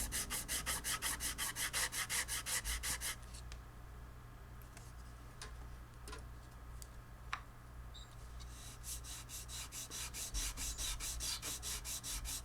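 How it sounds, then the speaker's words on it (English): Wood is sanded by hand during a guitar neck reset, close rhythmic back-and-forth rubbing strokes in bursts at the start and end, with a quieter pause and small taps in between. "I should be able to sand freely without worries of it sliding off."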